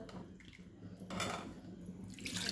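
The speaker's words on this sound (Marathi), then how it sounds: "आता आपल्याला कढी कितपत पातळ कितपत घट्ट पाहिजे त्या प्रमाणात पाणी घालून घ्यायचं" Water is poured into ground masala paste to thin a Maharashtrian kadhi batter in a home kitchen, giving a faint, soft trickling splash in short bursts over a low background hum, with no talking.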